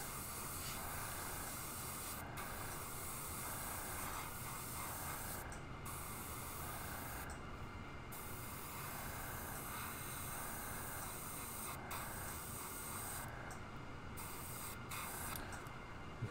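An airbrush lightly dusts sepia paint onto a black crappie fishing lure, making a continuous soft hiss of spray that runs steadily at low volume with a few brief gaps and no talking.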